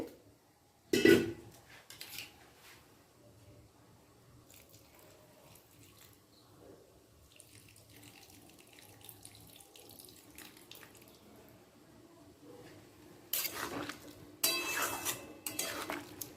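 Water runs from a tap into a cooking bowl while making a spicy potato and tomato curry with mustard paste, a steady trickle with brief louder splashes and clinks of the bowl near the start and end.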